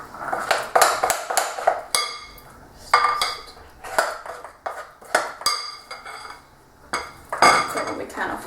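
Wooden spoon scraped and knocked against a metal bowl while clearing off yellow icing for orange and lemon cupcakes, a run of sharp clinks and scrapes in irregular bursts, close and fairly loud, no talking.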